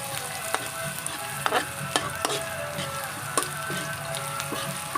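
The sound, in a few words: hotdog and onions frying in a pan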